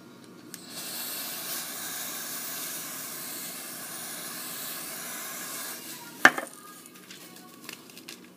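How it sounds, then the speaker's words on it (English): A steady hiss of an aerosol spray can held upside down runs for about five seconds, then stops with a sharp clatter and some faint handling sounds. "So I tilt the can upside down and then I spray"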